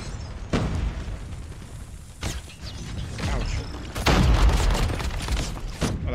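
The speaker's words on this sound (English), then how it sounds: "So you're the one throwing these freaking nades" Grenades explode in a Call of Duty match, several sharp bursts with rumbling booms spaced a few seconds apart amid mechanical gunfire clatter and game noise, the last blast loudest and longest.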